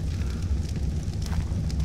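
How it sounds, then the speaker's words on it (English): A fireplace burning charcoal and wood in the video game ARK gives off a steady, dense roar with faint crackles, close and continuous, with no voices over it. "Fireplace with charcoal and wood available."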